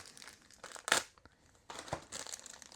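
Scissors cutting open the packaging of a 5-ounce proof collectible coin, close crinkling and crackling of plastic in uneven bursts with one sharper crunch near the start, no talking.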